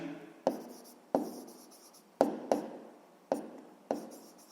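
Pen strokes in a notebook during a sixth-grade math exercise, six sharp taps that each fade quickly, spaced irregularly about a second apart, close and alone.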